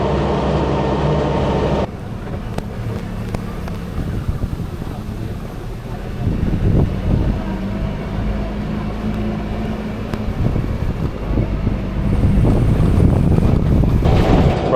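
A Land Rover Series 3 109 driving along country lanes, with a continuous low engine and road rumble, wind buffeting on the microphone and occasional bumps, and voices talking over it.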